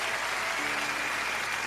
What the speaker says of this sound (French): On les applaudit, on les applaudit.